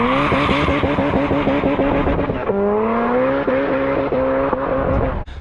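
A boosted hatchback launches hard on cold tires, engine howling at high revs with a steady harmonic drone and shifting pitch while the tires spin, loud and close throughout before cutting off abruptly at the end.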